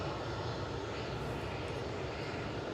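An airliner departs Manchester Airport bound for Amsterdam, its jet engines giving a loud, steady, broadband roar that holds evenly throughout with no talking.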